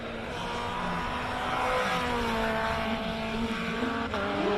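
Ford Duratec-engined race car at a hill climb qualifying run, its engine holding a sustained loud note with shifting pitch as it climbs, heard alone without talk.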